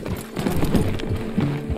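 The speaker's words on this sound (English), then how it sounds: "Get your horse and let's go." Horse hooves clip-clop in a steady rhythm in the Red Dead Redemption 2 video game, close and moderately loud over a low rumbling game background.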